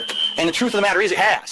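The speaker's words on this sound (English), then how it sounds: "As you can hear, the alarm has not stopped fucking ringing." A muffled smoke alarm rings steadily behind a door stuffed with paper towels, a high continuous tone running under someone talking close by.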